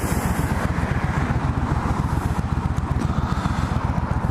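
A 1996 Suzuki VS1400 Intruder motorcycle underway, its engine giving a close, steady, rapid throbbing pulse over a constant rush of wind noise, with no speech.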